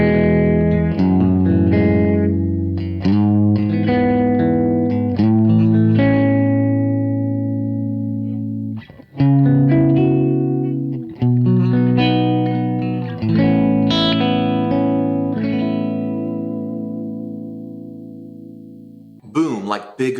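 Electric guitar through a speaker cabinet with a low-frequency shift set to -2 plays a sequence of sustained chords and single notes, loud and close with a fuller low end, with a brief pause midway and a short noise at the end.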